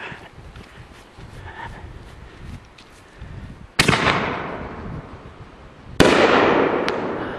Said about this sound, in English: This is the third and final of the canister shells.